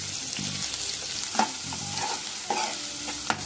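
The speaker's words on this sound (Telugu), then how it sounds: "ఈ ఆనియన్స్ గోల్డెన్ బ్రౌన్ వచ్చేంత వరకు మూత పెట్టుకొని వేయించుకుందాం" Sliced onions frying in oil in a kadai, a steady soft sizzle with a few sharp stirring clinks.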